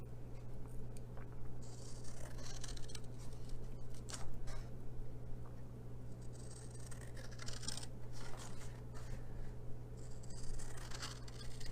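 Scissors snip through scored paper or card while shaping a hexagon box, a run of crisp short cutting strokes and rustles up close over a quiet background hum.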